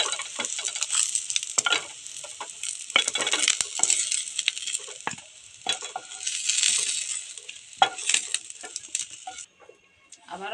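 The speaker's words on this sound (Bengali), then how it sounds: "এবার আমি বেগুনটা ভেজে নিচ্ছি।" Eggplant pieces fry in hot oil in a wok for a Bengali dumur shukto, giving a steady close sizzle broken by scraping and clinking stirring strokes, with no talking.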